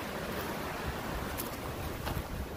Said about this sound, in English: that wind is so strong